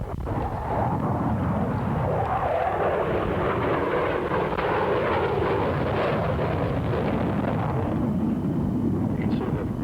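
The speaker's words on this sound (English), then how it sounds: "An afterburner system just throws more fuel into the rear end of the jet engine to give extra thrust" A jet aircraft with afterburners lit roars through a high angle of attack turn at a 1983 RAAF air show, a loud, sustained rumbling thunder that swells and holds for several seconds before easing slightly.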